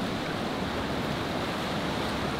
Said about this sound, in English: it feels good just to be here listening to the water